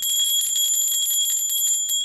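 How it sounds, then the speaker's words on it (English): An antique brass bell rings continuously, a bright sustained metallic tone with rapid repeated strikes, loud and close, with no voices. "I would call this an antique brass bell."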